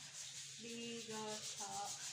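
A cleaned salted egg is rubbed smooth with sandpaper, giving a quiet, soft scratching rub with a few brief tonal squeaks over roughly two seconds.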